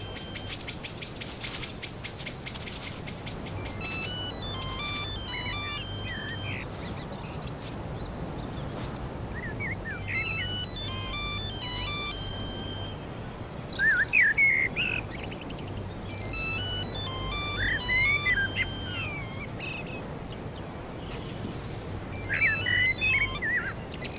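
A mobile phone ringtone goes off outdoors at dusk while badgers are being watched, its repeating electronic melody sounding in bursts over a steady low hum alongside chirping birds.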